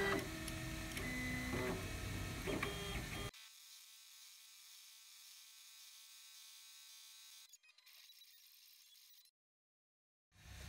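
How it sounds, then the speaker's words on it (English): An M20 Jewel engraving machine cuts a pendant held in a self-centering vise, giving a steady mechanical buzz and whir that is loud at first, then drops to a quieter continuous hum before stopping briefly near the end. "Now it's time to start the engraving."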